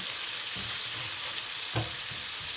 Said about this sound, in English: I'm gonna let this saute for about a minute